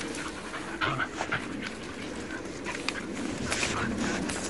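A dog pants in quick, steady breaths close by, with brief soft movement noises and a low background hum.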